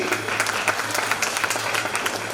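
Audience at a women's day speech claps together, a brief, moderately faint burst of continuous clapping with a low hum underneath.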